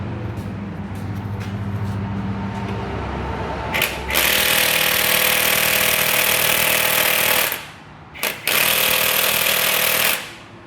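An Ingersoll Rand 7152 cordless impact wrench hammering at the crankshaft pulley bolt of a 2002 Honda Accord during a timing belt job: a loud, continuous rattling burst after a quieter lead-in, briefly stopping once before resuming, then cutting off.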